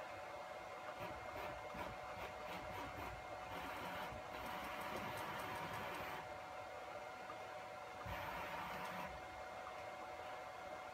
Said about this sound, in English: The motor doesn't have any problems moving the table